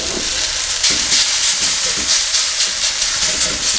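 Drained noodles stir-fry for a vegetable chow mein, giving a loud, steady sizzle and hiss with soft pulses of tossing in the pan, close up and alone.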